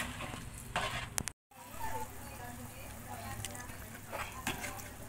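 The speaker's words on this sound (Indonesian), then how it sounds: "Nah, oke semuanya, sekarang gulanya udah mendidih ya." Palm sugar and thin coconut milk simmer in a pan, giving a soft continuous bubbling sizzle with occasional clinks and stirring noises, and a brief dropout partway through.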